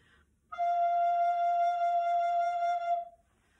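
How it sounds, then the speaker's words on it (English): A soprano recorder sounds a single sustained low F, a steady breathy tone held for about two and a half seconds before fading, played alone and close with no talking. "So that's low F."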